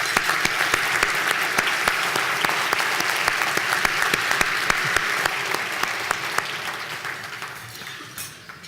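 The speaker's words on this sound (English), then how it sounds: "Let's invite them up to the stage with a round of applause." A conference audience applauds steadily as health-care panelists walk onto the stage at a Washington State of Reform event, a dense, even wash of many hands clapping that thins slightly near the end.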